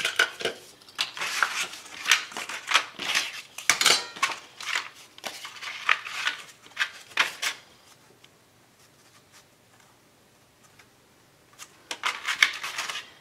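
Scissors snip through lining material for the inside lid of a large album with a matching trunk: bursts of crisp, close cuts and rustling for about eight seconds, a quiet pause, then a few more snips near the end.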